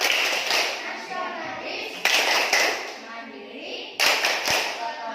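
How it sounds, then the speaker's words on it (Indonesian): Schoolchildren in an Indonesian classroom chant the PPK rhythmic clap, voices calling out together over sharp bursts of clapping that come in regular groups. "sekarang Ibu akan mengajak kalian melakukan tepuk PPK dan tepuk semangat"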